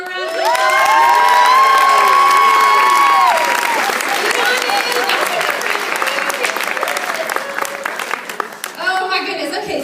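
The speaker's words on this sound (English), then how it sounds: "y'all give them a round of applause." An audience claps and cheers loudly for team leaders taking their seats, with high whoops and shouts riding over steady applause that gradually thins out toward the end.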